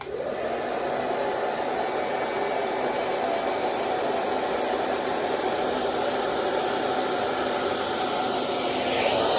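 A hair dryer runs steadily throughout, a loud continuous airy roar with no pauses, close by and alone.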